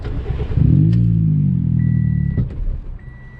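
Engine of a 2009 Toyota Yaris with a manual gearbox cranks and catches, settling into a steady low idle rumble close by, with a couple of sharp clicks near the end.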